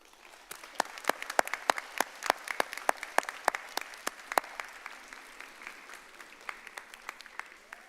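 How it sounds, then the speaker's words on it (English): A modest crowd applauds parents at a high school commencement, scattered distinct claps, fairly close and brisk at first, thinning and softening toward the end. "And give your parents a round of applause."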